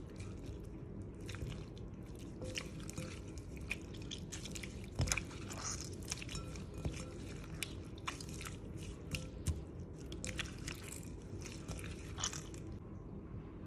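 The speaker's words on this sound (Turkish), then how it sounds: "Güzelce bunu sıktıra sıktıra yoğuruyoruz." Hands knead and squeeze a frozen lemon mixture for homemade lime lemonade, making close, quiet wet squelches and small crunchy squishes in an irregular, continuous rhythm.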